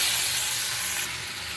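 Vegetables dropped into a hot wok (kadai) of oil and sputtering seeds, making a steady loud sizzling hiss that fades slightly partway through, with no voices.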